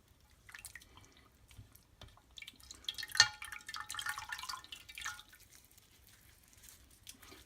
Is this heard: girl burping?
no